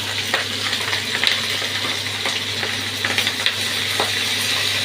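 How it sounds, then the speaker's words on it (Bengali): Long-cut spring onions and green chillies fry in hot oil, giving a continuous dense sizzling hiss with occasional small pops and clicks. "এই পেঁয়াজকলি এরকম লম্বা লম্বা কেটে রেখেছি দিয়ে দিলাম।"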